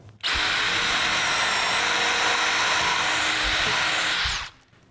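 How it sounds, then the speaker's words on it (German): A cordless drill fitted with a wood bit bores a hole in timber while a workbench is being built, one loud steady whine that starts abruptly, holds for about four seconds and then winds down, with no talk. "Wir nehmen wieder unseren Akkuschrauber. Und zwar einen guten Holzbohrer."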